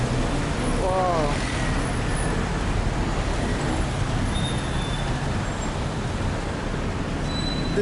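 Dense city traffic in Bangkok forms a steady, loud roar of cars, buses and trucks, with a brief rising engine whine early on and faint high squeals scattered through the continuous noise.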